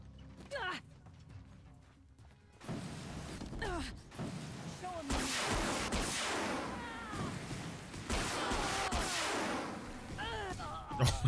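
Explosive weapon shots in Horizon Zero Dawn, a firework-like crossbow that bursts loudly, several blasts over about eleven seconds amid creaks and clatter, with a person talking through parts of it.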